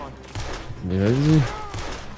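Gunfire crackles in a PC shooter as the player fires, with short broadband bursts and a volley around the middle, heard beneath a voice talking over it.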